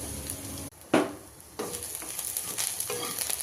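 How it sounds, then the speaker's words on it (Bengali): Onions, garlic and greens frying in a pan with steady hissing and sizzling, broken by a few stirring scrapes and clatters, close and moderately loud with no talk. "পেঁয়াজটা ভাজা ভাজা হয়ে গেছে, রসুন কটা কুচি দিয়ে লবণ দিয়ে তারপর শাকটা দিয়ে দেবো"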